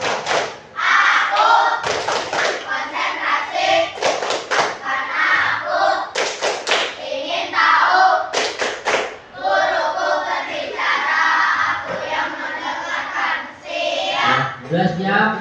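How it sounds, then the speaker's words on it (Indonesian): A primary school class performs the 'tepuk konsentrasi' concentration clapping routine in a classroom: rhythmic bursts of many hands clapping together in set patterns, with pauses between groups and voices chanting along throughout. "tepuk konsentrasi"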